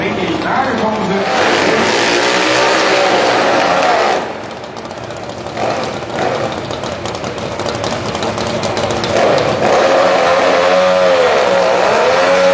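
Drag racing motorcycle at a Super Twin Top Gas qualifying session, a loud continuous engine roar and tire spin of a burnout with rising and falling pitch, a commentator's voice running over it.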